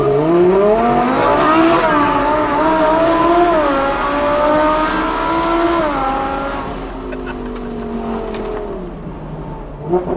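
A supercharged 750hp Audi R8 V10 launches hard under launch control, its engine screaming loudly up through the gears with rising, stepping pitch before easing off near the end.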